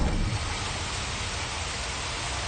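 Steady rain pours in Final Fantasy XV on PS4, a dense, even hiss of falling drops with no break, moderately loud and alone.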